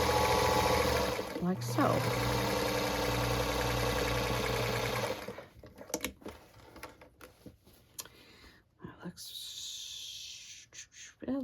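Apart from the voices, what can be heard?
sewing machine top stitching a linen bag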